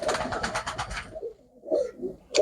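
Close pigeon coos in a loft, a rhythmic burst of low throaty calls at first, then a pause and two shorter coos.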